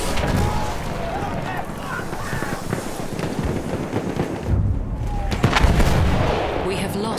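An enemy machine gun fires amid heavy battle noise in Battlefield 1 on the Achi Baba map, with loud, sustained bursts and booming impacts that build toward the end.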